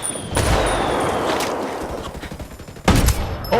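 Mortar fire and gunfire in the video game Ghost Recon Wildlands: a loud burst of shots and blasts, a rumbling stretch, then a second sharp explosive hit near the end.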